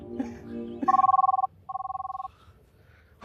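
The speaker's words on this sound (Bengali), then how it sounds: "শাশুড়ি মা ফোন দিছে" A telephone rings in two bursts of a bright, trilling electronic bell, each lasting about half a second, separated by a short pause, with faint room murmur beneath and no speech.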